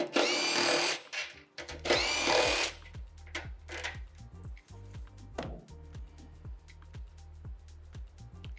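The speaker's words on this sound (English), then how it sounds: "Now we're going to use a 10mm socket to remove these two fasteners." A 10mm socket on a ratchet clicks away as fasteners come out of an SG250 cafe racer motorcycle, with two loud bursts of harsher grinding early on, then a quick run of close, rhythmic ratcheting clicks.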